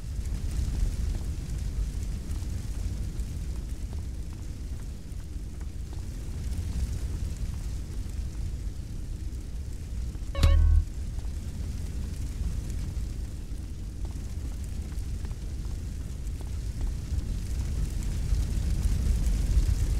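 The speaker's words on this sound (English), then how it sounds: "those flames, they're too hot" Fire roaring steadily inside a building in GTA San Andreas, a continuous dense low rumble lasting the full twenty seconds with one brief sharp pop or thud midway, no voices over it.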